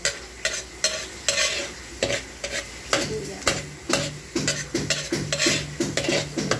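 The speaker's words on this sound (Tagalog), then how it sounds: "Ayan, hulog na namin yung bawang." Garlic hits hot oil with browned onions in a pan and fries in a crackling sizzle, punctuated by repeated rhythmic scrapes of a stirring utensil, close and moderately quiet, with no talking.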